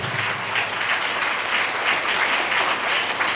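A church congregation claps loudly and continuously for Jesus Christ at a Hindi-language service, the dense applause swelling and holding steady for a few seconds with no talking heard.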